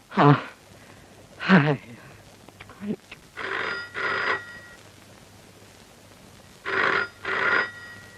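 An old telephone rings for an incoming trunk call, giving several loud, close bursts of jangling bell tone in pairs with short pauses between them, while people talk briefly in the room.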